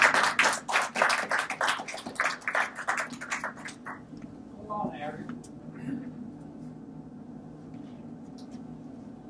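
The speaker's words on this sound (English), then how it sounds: "Give yourself a round of applause." Clapping from a lecture audience at a photo exhibit talk, dense and fairly loud for about four seconds before dying away into quiet room murmur with faint voices.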